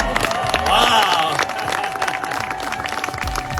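Wedding guests applauding after the vows, a dense crowd clapping with some cheering, loud at first and then softening, with voices in the background.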